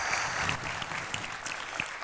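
Conference attendees give a brief burst of steady applause, an even wash of many hands clapping at moderate distance for about two seconds, with no speech over it.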